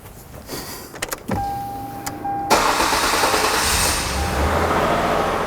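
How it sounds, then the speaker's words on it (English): A 1998 Ford Contour's engine cranks and catches, then settles into a steady idle after a few faint clicks. "let's start the engine up"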